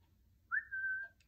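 A single soft human-whistled imitation of a bird chirp, a short rising note held briefly, faint over a low background hum.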